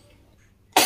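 A single sudden, loud cough bursts out from a man at close range after near silence; the cough has lasted eight days.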